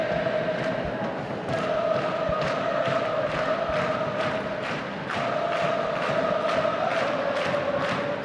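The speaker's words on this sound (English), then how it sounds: "Chanting, drumming, on your feet crowd, what you come to expect here at JELD-WEN Field when the Thorns take the pitch" A stadium crowd at a Portland Thorns women's soccer match at JELD-WEN Field, chanting loudly in unison to a steady, rhythmic drumbeat that pounds on through the whole stretch.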